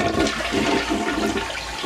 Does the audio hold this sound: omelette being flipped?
no